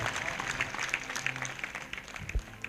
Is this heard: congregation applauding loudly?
yes